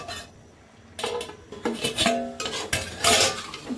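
Mutton cooks in a pot with salt and a little water while a metal spoon stirs and sautés it, giving repeated loud close scrapes and clanks against the pot.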